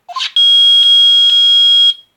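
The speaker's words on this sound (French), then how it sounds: "Ça bip! Le détecteur de métaux a trouvé quelque chose?" A metal detector in the Phoenix Wright: Ace Attorney video game gives a loud electronic alarm, a steady high-pitched beeping tone sustained for under two seconds with a few pulses, preceded by a brief chirp.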